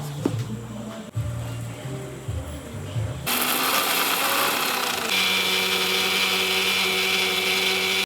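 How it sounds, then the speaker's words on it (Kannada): A kitchen mixer grinder grinding a masala paste of onion and curry leaves for a village-style mackerel fry: a loud, steady whirring drone that runs on and off in bursts, then continuously, close by. "ಮಿಕ್ಸಿ ಪಾಡೋದು"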